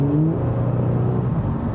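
An Audi S4's V6 engine revs in a smooth, steady, refined hum that rises slightly in pitch, heard from inside or near the car with no talk.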